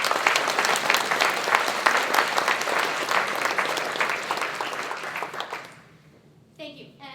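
A room full of people applauds award recipients at a California Endowment event, loud sustained clapping that fades out after about five seconds before a voice briefly speaks.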